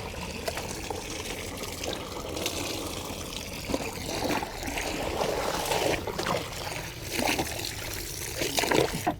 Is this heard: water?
yes